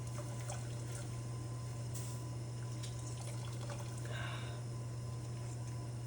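Water runs steadily into a pot for cooking shrimp, a soft, continuous trickle over a low background hum, with no speech.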